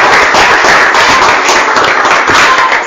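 A church congregation applauding together, a loud, dense wash of many clapping hands filling the room continuously for about three seconds with no voices standing out.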